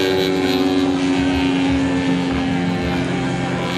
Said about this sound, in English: Now this one's got a 200cc motor in it from Germany, 3W motor.